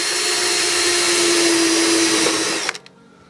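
A power drill bores a hole with a 4 mm metal bit while fitting house rain gutters, giving a steady, loud whine that runs close and alone for over two seconds before stopping abruptly.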